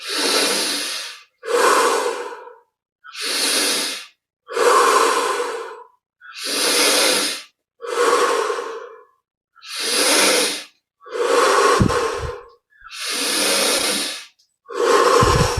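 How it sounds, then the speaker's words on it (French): Deep, rhythmic breaths during a Kriya Yoga breathing exercise: about ten long, loud breaths with short silent gaps between them, each one full and forceful, with no talking. "On augmente l'amplitude et l'intensité de la respiration à chaque fois."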